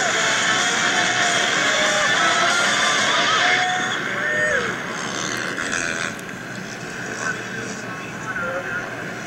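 Motocross motorcycles racing at Hangtown in Lucas Oil Pro Motocross, a steady engine drone with rising and falling whine throughout, loud and continuous beneath an announcer's commentary.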